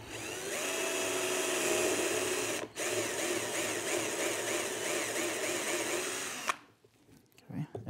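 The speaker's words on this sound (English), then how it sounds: "So I will drill that one through completely." A drill boring through a table saw sled with a bit, a loud steady high whine with one brief dip midway, then stopping abruptly near the end.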